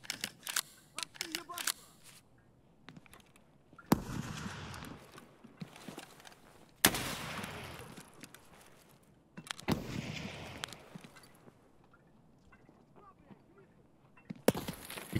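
Gunfire in the video game Escape from Tarkov: a few sharp, loud shots or short bursts spaced several seconds apart, with quieter clicks and talking in between.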